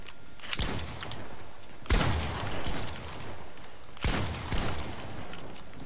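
Pump shotgun blasts sound in Fortnite, Chapter 2 Season 5 on PlayStation: three sharp, loud booms spaced about two seconds apart, each trailing into a rumbling decay, with faint mechanical clatter between the shots and no talk.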